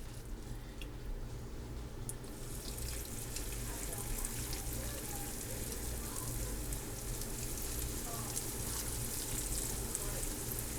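Salmon fritters, made from canned salmon and dropped by spoonfuls, frying in hot oil, giving a dense, continuous crackling sizzle that grows brighter after the first couple of seconds, fairly quiet and steady with no talk.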